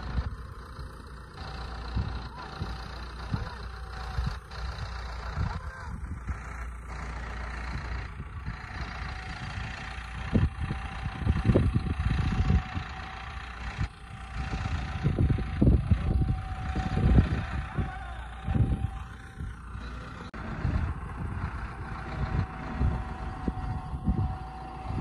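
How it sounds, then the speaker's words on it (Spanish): A tractor rolls slowly through a pumpkin harvest field while workers cut the pumpkins and load them into crates, its low engine rumble steady and mid-distance, with wind buffeting and some louder, closer surges partway through. "Y el tractor pues va avanzando."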